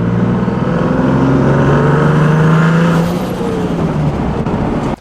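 A 600-horsepower car engine rumbles loudly with a deep, steady exhaust note and slight pitch rises, held for several seconds before cutting off abruptly.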